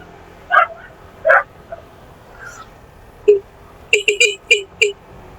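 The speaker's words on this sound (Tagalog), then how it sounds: "Daming aso." Several dogs bark in sharp yips in a residential area of Dapitan City, Philippines, a couple early on, then a quick burst of five or six barks near the end, moderately close.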